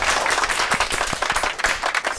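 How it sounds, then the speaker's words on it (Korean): Small studio audience claps after an impromptu three-line poem, brisk close applause with audible individual hand claps that stays lively throughout the brief burst. "박수 한번 쳐주세요"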